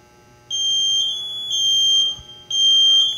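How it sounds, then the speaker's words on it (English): A self-contained breathing apparatus personal alert alarm sounds in loud, piercing tonal beeps. They come in long repeated bursts with brief gaps as the alarm cycles through its stages, close and alone. "Let it cycle through all three stages of the alarm."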